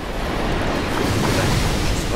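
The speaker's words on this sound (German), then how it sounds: "Wasser oder was auch immer du spuckst." A hydra in Dark Souls spits water in a continuous, loud, rushing surge of spray, like crashing surf, with no speech over it.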